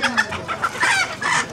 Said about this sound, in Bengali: আর দেখেন এই যে এদিকে অসংখ্য পরিমাণে মুরগি আছে।